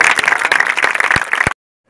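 Close, loud clapping from an audience at a CBF social football event, brisk and fairly dense with a few sharp individual claps standing out before it stops abruptly into silence.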